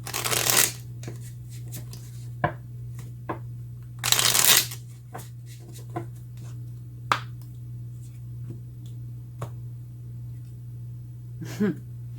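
Tarot cards being shuffled in two loud close riffle bursts, followed by scattered soft taps and card handling over a constant low hum.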